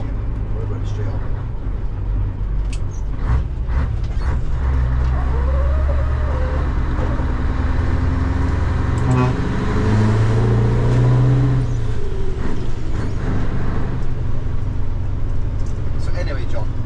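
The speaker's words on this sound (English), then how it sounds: "I've been driving this lorry now for 3 weeks" A Scania 143 lorry drives along the road on a classic vehicle run, its low, steady engine drone filling the cab beneath people talking.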